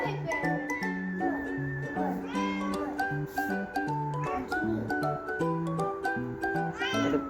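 A hungry cat meows repeatedly indoors at a home, its cries standing out over steady background music, fairly close and loud.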